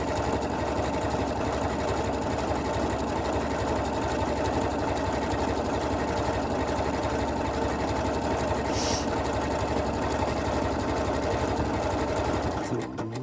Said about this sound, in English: on your sewing machine.